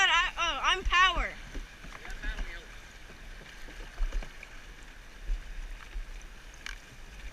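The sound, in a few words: paddling a canoe in shallow river water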